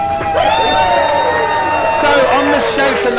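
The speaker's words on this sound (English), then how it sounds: "Give yourselves a round of applause," A live audience cheers, whoops and shouts for the host at the start of a retro feel-good music show, a dense, loud crowd roar with shrill whistles and voices running throughout.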